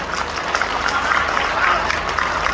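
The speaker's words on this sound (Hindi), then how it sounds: "ये जमाना मुझे अच्छा लग रहा हो तो एक बार तालियां हाथ उठा के बोलिए" An audience at a kavi sammelan poetry event during the Azamgarh Mahotsav claps steadily, a crowd-wide round of applause heard from within the gathering, with a murmur of voices beneath.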